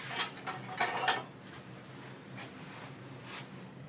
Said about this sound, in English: I'm just going to hold on to the wheel while we make that final tightening